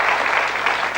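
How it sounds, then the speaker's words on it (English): Studio audience applauding game show contestants on a 1980s darts quiz, a dense burst of close, loud clapping filling the whole moment without a break. "Give them a nice round of applause"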